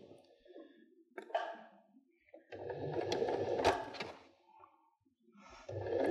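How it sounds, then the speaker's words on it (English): Sewing machine running a narrow zigzag stitch on fabric for a bird appliqué, close and fairly quiet, with a short whir, a pause, then a sustained humming run and another start at the end. "I've got this set to about a 2mm length stitch, and it's about a 2 to 3mm wide zigzag stitch."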